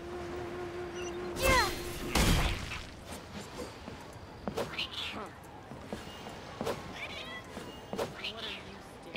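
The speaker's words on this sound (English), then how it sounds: "Oh, there's a cat." A cat meows repeatedly in the video game Genshin Impact, short mews over busy game sounds and effects, with a couple of loud thuds early on.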